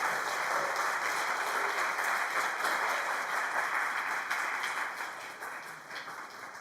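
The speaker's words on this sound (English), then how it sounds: "Warm round of applause" An audience at a university thesis festival claps for a speaker, producing dense, sustained applause from a full room that keeps going steadily and eases off slightly toward the end.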